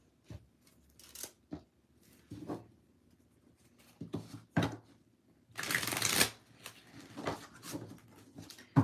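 Tarot cards shuffled by hand in a quiet room, giving a series of close, crisp riffling and flicking bursts with short pauses, plus one longer, louder shuffle near the middle.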